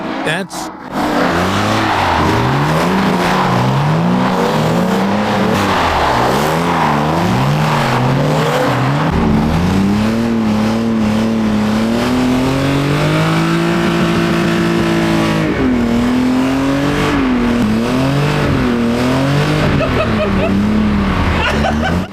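An old rear-wheel-drive car revs hard and continuously on a race track, pitch rising and falling as it accelerates and shifts, loud and close.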